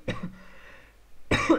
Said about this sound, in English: have a bad cough.